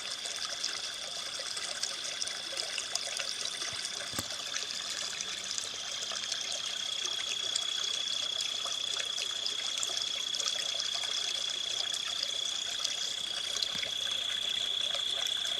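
Chinquapin Run, a polluted urban creek beneath a road bridge, flows with a soft, constant trickling wash, faint and steady throughout with a thin steady whine above it and no voices.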